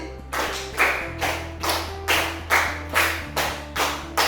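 A group of people claps in unison in a fixed pattern, two runs of five sharp, evenly spaced claps, loud and close, with a steady low hum underneath and no talking.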